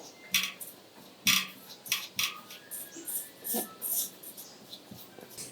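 Millet biscuit batter with vanilla essence stirred in a bowl by hand, a spoon giving a run of irregular close taps and light scrapes against the bowl, each distinct, with no voices.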